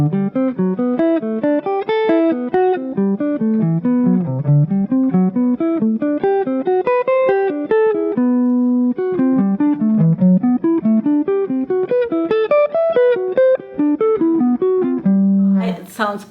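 Guitar runs through a diatonic fourths exercise, with a continuous stream of clean plucked notes moving up and down in steady phrases, played close and alone for about sixteen seconds.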